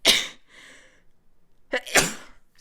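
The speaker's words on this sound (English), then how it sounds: "I'm about to sneeze." A loud sneeze bursts out near the start, then a short breathy pause, followed by a second strong sneeze-like burst with a sharp intake.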